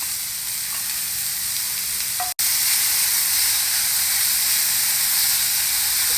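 Finely chopped onions and green chillies sauté in a hot pan with a steady, fairly loud sizzle and hiss that runs alone throughout, broken once by a brief clack near the middle.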